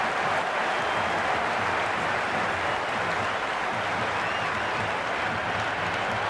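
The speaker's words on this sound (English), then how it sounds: "It's evident and ever so audible that the crowd is at near bursting point at today's play." Cricket stadium crowd during an IPL match between Royal Challengers Bengaluru and Sunrisers Hyderabad, a steady wash of cheering and applause, fairly distant and continuous without pauses.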